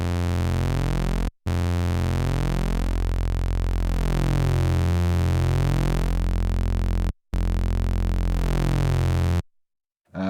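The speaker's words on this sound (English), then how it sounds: "Let's maybe have a look at the tube distortion first." A U-he Zebra 2.8 software synth run through tube distortion gives a loud, sustained, buzzy harmonic-rich drone, held steadily for several seconds, cut by two brief silences and then stopping.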